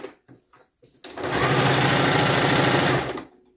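A Toyota RS2000 series sewing machine, cleaned and oiled, runs freely in one loud, steady whirring burst of about two seconds, preceded by a few soft clicks and handling sounds.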